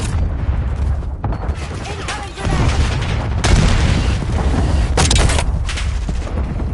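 Archangel artillery strike in Call of Duty Warzone, a dense barrage of heavy booming blasts and crackling impacts rolling continuously, loud and close, with distant game voices mixed in.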